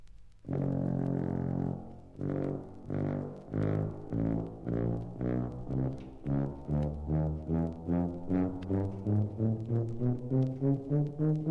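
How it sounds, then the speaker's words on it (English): A tuba plays a steady run of low, round notes, one after another in an even rhythm, close and full with no voices. "The tuba is a large brass instrument with valves."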